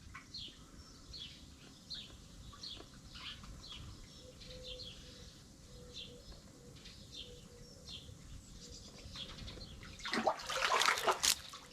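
Water trickles softly and steadily into a garden koi pond, a faint constant patter. Small birds chirp intermittently nearby, and a brief louder splash rises near the end.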